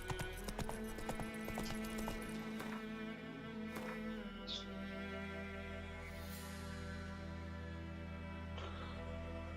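Horse hooves clip-clopping steadily in The Witcher 3, an even rhythmic gait under a continuous background of game music and ambience, moderately loud with no talking.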